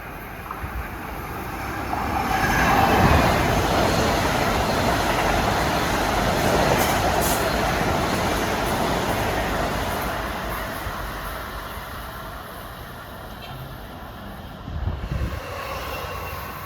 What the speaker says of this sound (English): Approaching at 8:57 is one of the hot trains out of Huntington, 1623.